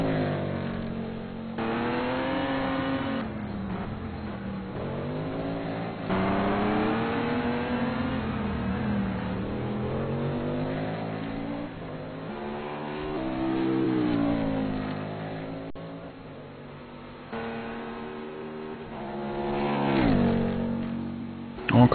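A GT Masters race car lapping fast over the curbs, its engine note climbing and falling through gears with repeated upshifts, sustained and fairly close throughout.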